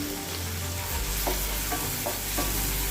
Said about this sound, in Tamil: சேர்த்துட்டு இதையும் நல்லா வதக்கிட்டுக்கலாம்